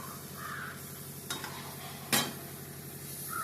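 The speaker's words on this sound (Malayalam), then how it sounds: "ഒന്ന് മിക്സ് ചെയ്യാം." Chicken parts cooking in masala sizzle steadily in a pan while being stirred, with a constant low frying hiss and a couple of sharp utensil scrapes against the pan partway through.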